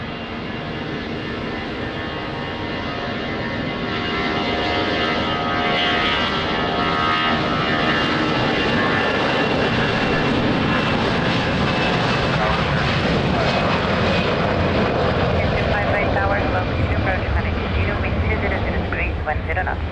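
An airplane landing on runway 20 at Lisbon Airport in wind and rain, a loud continuous engine roar that builds slightly and holds steady throughout, with faint voices underneath.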